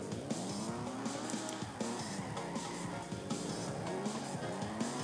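Car drifting in CarX Drift Racing, a steady engine whine with shifting pitch and continuous tire squeal as the tires slide, loud and close throughout.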